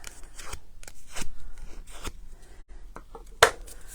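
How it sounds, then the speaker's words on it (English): Paper flower petals for a wreath kit being shaped with a bone folder: soft rubbing and scraping strokes close by, repeated irregularly, ending in one sharper crisp crinkle. "I'm using my bone folder to shape the petals."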